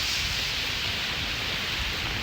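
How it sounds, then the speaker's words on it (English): Rain pours down outdoors during a fishing trip, a steady, dense hiss that fills the whole stretch without a break. "you guys see this rain coming down out here?"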